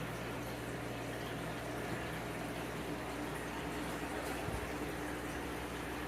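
Hygger aquarium air pump turned up, pushing air through two air stones and a sponge filter, a steady loud bubbling hiss with an underlying hum.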